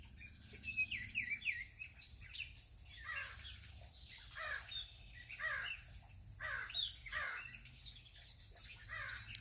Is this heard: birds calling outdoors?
yes